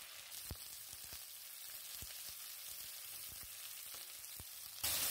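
Onion and curry leaves sautéing in hot oil in a pan, a steady crackling sizzle with scattered sharp pops throughout, fairly close, no talking.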